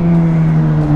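A Suzuki GSX-S1000 motorcycle rated at 145 hp with its stock exhaust runs in a loud, steady engine drone with an even, sustained tone and no change in pitch, close up.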